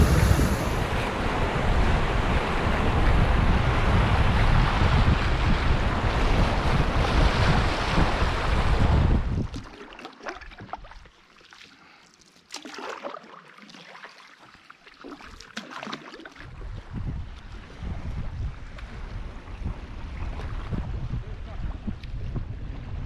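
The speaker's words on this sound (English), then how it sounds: "It's Golden Eagle Rapids" Whitewater at Golden Eagle Rapids on the Bloodvein River roars loud and broadband with gusty wind buffeting, dips abruptly to a quieter lull midway, then the rushing swells back.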